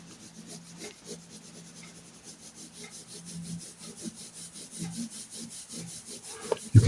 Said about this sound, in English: You can see I'm still shading using the whole arm.